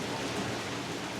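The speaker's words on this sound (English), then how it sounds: "It is fucking raining out here. It is torrential." Heavy torrential rain pours down outdoors as a dense, steady, loud hiss with no pauses.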